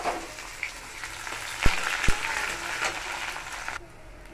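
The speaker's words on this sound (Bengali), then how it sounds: "পেঁয়াজটা ভাজা হয়ে এসছে" Onions and chillies fry in hot oil with a steady, dense crackling sizzle, broken by two sharp utensil knocks midway. The sizzle fades out just before the end.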